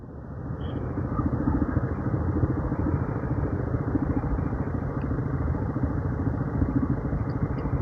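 A Suzuki 160 manual motorcycle engine runs at a steady, loud idle close by. The rhythmic chug holds without letup and no one speaks.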